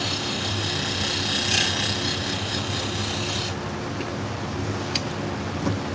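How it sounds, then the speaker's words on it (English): Shop fans and a dust collection system run steadily in a hot shear-sharpening workshop, a constant broadband roar and hum with no speech, dropping slightly partway through. "I have fans on. That's what you hear in the background, along with the dust collection system."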